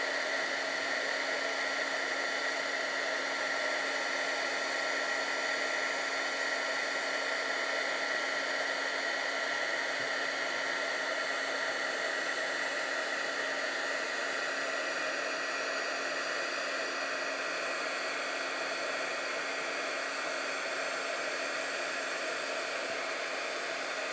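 A heat embossing tool blows hot air in a continuous, even whir, like a small hair dryer, which holds steady and close for the full length with no talking.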